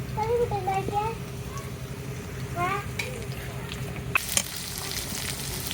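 Chopped onion and green chili hit hot oil with already-frying potato and carrot for a vegetarian cabbage curry, making a steady close sizzle with stirring scrapes, while a voice chatters intermittently in the background.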